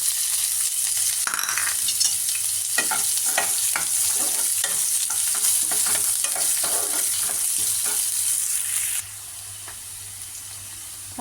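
Onions sautéing in a pan with curry leaves, a continuous loud sizzle with rapid scraping stirs of a spatula that quiet down near the end, close by with no voices.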